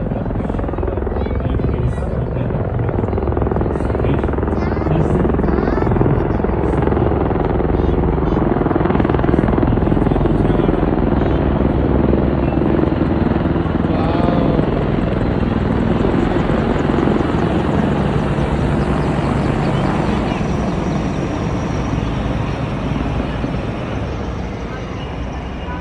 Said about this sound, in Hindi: अत्याधुनिक अपाचे हेलीकॉप्टर